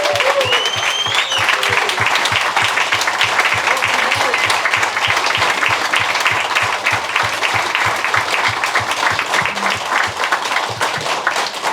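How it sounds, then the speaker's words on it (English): Long round of applause for veterans at a Vietnam War Era veterans pinning ceremony, a roomful of people clapping steadily and loudly, with rhythmic low thumps beneath and a few voices and whistles over it. "Can we give one more round of applause to each of our veterans for this?"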